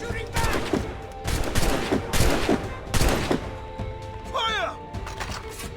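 Musket volleys crack in bursts during a city battle in the video game Assassin's Creed Rogue, loud overlapping shots mixed with shouting soldiers and battle noise.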